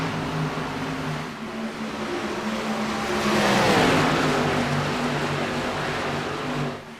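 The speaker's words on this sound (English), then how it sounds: "Ryan Von Henschel going to be 3 wide with him as they head their way into turn number 1 and 2" Stock cars roar around an oval short track during a 300-lap feature race, a dense engine drone that swells as the pack passes close and then fades, with no talk over it.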